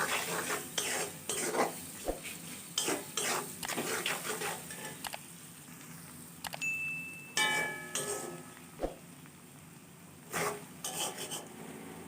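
Onions and chilies with a little turmeric fry in a pan as a utensil stirs them, giving repeated scraping strokes over a steady soft sizzle and occasional sharp clinks of metal, with several quieter pauses.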